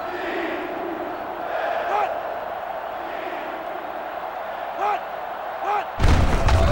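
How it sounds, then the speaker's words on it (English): A sellout stadium crowd roars through a college football game between Minnesota and Michigan, a steady wash of noise punctuated by a few thumps and a loud surge at the end. "This sellout crowd is really making a difference now as these guys can't even call the play."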